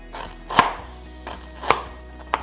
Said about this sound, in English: Then you want to slice your ginger as thinly as you can.